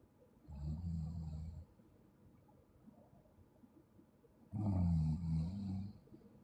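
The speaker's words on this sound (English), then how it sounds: "Looks like it's secret snoring." Two loud, deep snores, each about a second long, separated by a quiet pause filled only with faint background hiss; the second snore is longer and stronger than the first.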